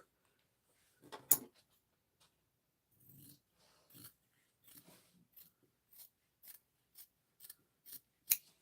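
Scissors snip through fabric along the bottom edge of a sewing project, a run of crisp, close blade clicks that start sparsely and settle into a steady rhythm of about ten cuts.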